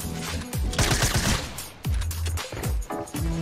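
Rapid bursts of gunfire in the video game Fortnite, with loud, close automatic volleys repeating in quick clusters across the span.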